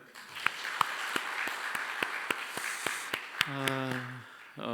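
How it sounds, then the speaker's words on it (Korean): Scattered applause from a church congregation runs under a few sharp, separate claps, and a voice speaks near the end as the clapping fades out. "우리 박수 한번 보낼까요?"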